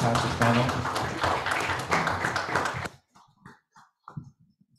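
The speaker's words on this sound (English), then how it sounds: "We can have a round of applause for this fantastic panel." Audience applause for a panel at a fintech summit breakout session, a dense, loud wash of clapping for about three seconds that cuts off abruptly, followed by faint scattered voices.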